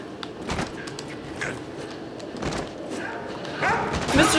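Dog in the Deadpool video game giving a few short barks and yips, mixed with thumps and a voice talking over it.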